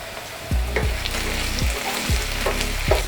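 Onion, garlic, ginger and green chillies sizzle steadily in a pan, with a spoon scraping and stirring in four or five sharp knocks through the continuous frying hiss.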